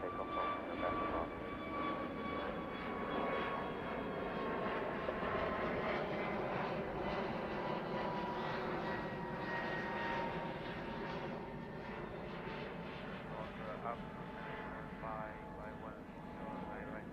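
Airliner flying low overhead at Heathrow Airport on an evening departure, a steady roaring jet wash with a slowly shifting engine whine that holds loud throughout, with faint talk mixed in.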